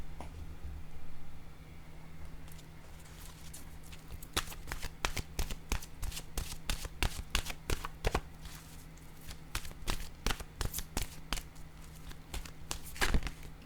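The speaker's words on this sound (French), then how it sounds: "je vais piger une autre carte de mon oracle de l'âme intuitive" Oracle cards from an intuitive-soul deck shuffled and drawn by hand, a rapid run of crisp riffling snaps and slaps over a low steady hum, fairly close and continuous for most of the stretch.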